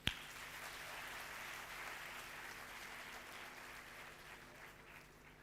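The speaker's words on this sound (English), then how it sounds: "If you agree, clap." A university audience claps together in agreement during a Buddhist talk, a sustained, moderately distant patter of many hands that opens with one sharp clap and gradually softens.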